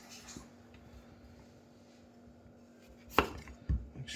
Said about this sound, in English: We'll start with julienne on our nice washed potato.